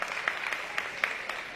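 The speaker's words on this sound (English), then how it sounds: "Now I want the judges to clap for the judges, for the people at home." Judges at a food feud competition clap for themselves, producing a small, sparse round of applause made of scattered individual claps at a moderate distance.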